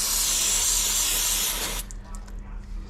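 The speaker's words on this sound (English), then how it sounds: "Spray some of the dirt out." A loud, steady hiss of spray blasts dirt out of a 2024 Yamaha YZ450F shock for nearly two seconds, then cuts off abruptly to a quiet room.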